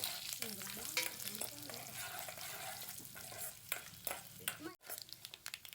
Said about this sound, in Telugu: ఈ విధంగా పోపుని వేగనిద్దాము పోపు మాడిపోకుండా చూసుకోండి